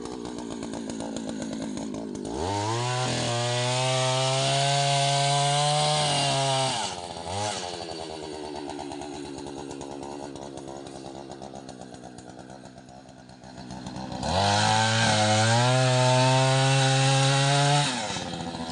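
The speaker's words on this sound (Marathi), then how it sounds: "मशीनद्वारे या ठिकाणी गड्डे घेतले जाते कारण गड्डा खोल होतो" A machine auger digs planting pits for sweet lime saplings in light soil over murram, its engine droning loudly in two long bursts with a quieter idling stretch between.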